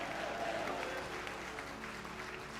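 A church congregation applauding during a sermon, a dense steady patter of many hands clapping, moderately distant and even, with a faint murmur of voices beneath.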